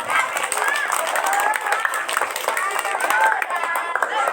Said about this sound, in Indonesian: Tepuk tangan dong buat semuanya